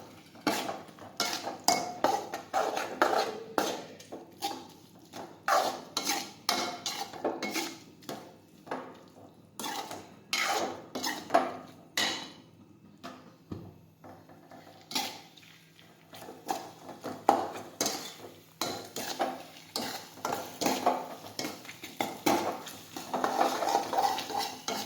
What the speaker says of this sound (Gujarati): હવે બધા મસાલા છે તે મિક્સ કરી દઈશું આ રીતે.